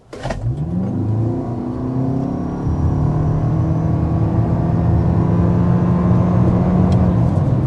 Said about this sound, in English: first we need to start with a hard acceleration